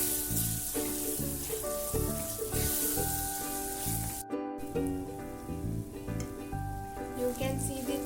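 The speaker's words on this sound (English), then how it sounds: "On this stage we have to add the mangoes. This is one finely chopped mango, medium sized mango. Now we'll mix it." Chopped Alphonso mango stirred into roasted sooji and ghee in a pan, with a soft steady sizzle and repeated scraping strokes of the spoon, close up and fairly quiet.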